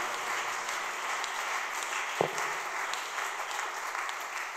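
A church congregation claps together in a steady, continuous wash of applause that holds evenly for several seconds, heard from within the room.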